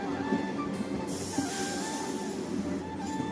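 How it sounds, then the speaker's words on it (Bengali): A crowded Medinipur local train on the railway, heard as a steady broadband rumble and hiss of rolling wagons with faint wheel noise, continuous and fairly near throughout. "তো চলো ট্রেন ধরি।"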